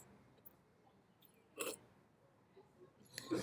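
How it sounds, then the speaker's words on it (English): Soft hiccups, two short gulping catches spaced a couple of seconds apart, close and quiet in a still room with no talking. "My hiccups."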